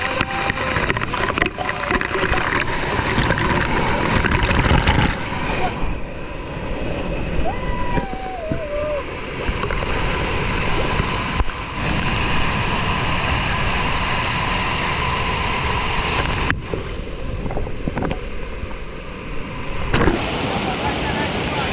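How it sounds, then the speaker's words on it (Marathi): A big waterfall pours down in a stream in the Konkan, a steady loud rush of falling water filling the whole stretch, with people talking over it. "हा एवढा मोठा धबधबा आहे ना"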